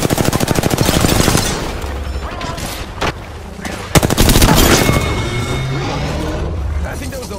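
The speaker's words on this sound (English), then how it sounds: "Shot fired." Gunfire in the Apex Legends video game rattles out in loud rapid automatic bursts, then continues as scattered shots and impacts over game sounds and background effects.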